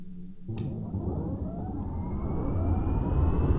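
A twin-engine turboprop aircraft starting up in the X-Plane 11 flight simulator, a sharp click followed by a steadily rising whine and rumble that builds in pitch and loudness as the engine spools up.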